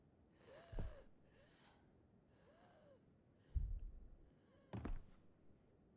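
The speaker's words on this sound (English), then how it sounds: "I hear someone breathing." Breathing in the horror video game Visage: a few short, sharp breaths and snorts, quiet and close, spread across an otherwise faint, hushed background.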